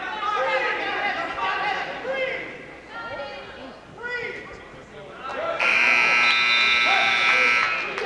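Crowd chatter and shouts fill a high school varsity wrestling match, then a loud, sustained electronic buzzer cuts in and drones on steadily to the end.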